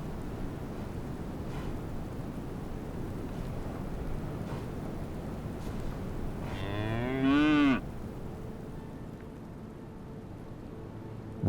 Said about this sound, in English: The cow in labor, of course, is now at the center of the family's attention.